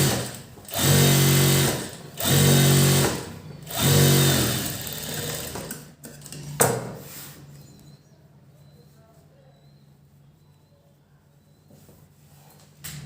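A sewing machine stitches a blouse from the lining side in three loud, even bursts of a couple of seconds each, followed by handling clicks and then near-quiet.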